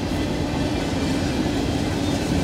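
Freight train with mixed grain hopper cars rolling past steadily, a continuous loud rumble of wheels and cars with no pauses and no talk.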